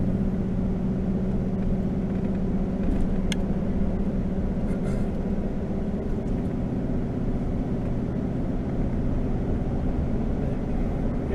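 A Chevy truck drives along with a steady, close engine and road drone inside the cab, accompanied by faint rattling and occasional ticks from the shaking dash-mounted camera.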